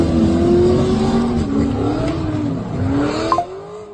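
A white Holden Commodore SS with an LS1 V8 does a burnout on a suburban road, its engine revving hard and wavering in pitch as the tyres spin, loud and close, then easing off at the end.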